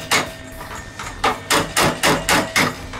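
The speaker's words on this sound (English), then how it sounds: "This is the wrong body hammer to be using on here." Body hammer tapping on the spring tab of a VW Beetle decklid, a blunt makeshift hammer striking sheet metal in about eight sharp, close metallic blows, sparse at first and then in a steady rhythm, with no talk.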